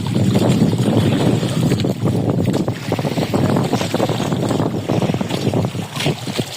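Loud motorboat engines of fishing boats drone steadily heading out to sea off Quezon, Philippines, with heavy wind buffeting the microphone and splashing water throughout.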